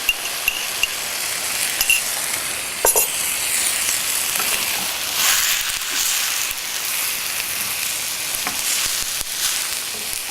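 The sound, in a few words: peppers sizzling as they are added to the pan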